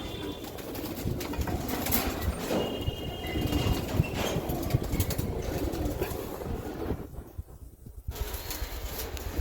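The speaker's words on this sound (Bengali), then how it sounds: "এই পেয়ারটা যদি ভাল লাগে আপনারা নিতে পারবেন দুটাই রেস করা কবুতর" Racing pigeons coo repeatedly close by, a dense layer of soft throaty calls with a few higher chirps throughout.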